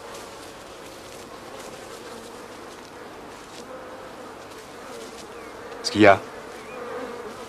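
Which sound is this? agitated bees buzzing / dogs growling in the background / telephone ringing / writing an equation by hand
agitated bees buzzing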